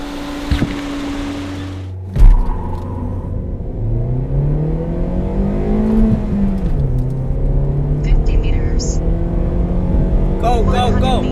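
A Toyota Vios accelerates hard in a speed test, its engine note climbing loudly after a thump, rising through the gears with a dip at each shift, heard from inside the car with talk over it.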